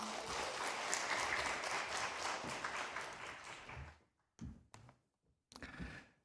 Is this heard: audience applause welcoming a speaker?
yes